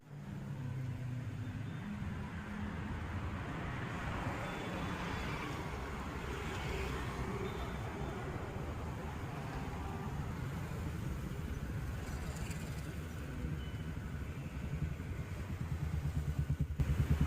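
Heavy traffic on a crowded city road in Chennai, a constant low rumble of many cars and motorbikes passing nearby, with occasional engine revs and a louder vehicle approaching at the end.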